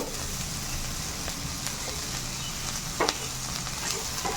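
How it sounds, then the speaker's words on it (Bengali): Roasted semolina being stir-fried with chopped vegetables and tomato in a pan for Bengali-style upma, a steady close sizzle with occasional spoon scrapes throughout. "সুজিটা দিয়ে ভালো করে নেড়ে চেড়ে আমি একটু ভেজে নেব"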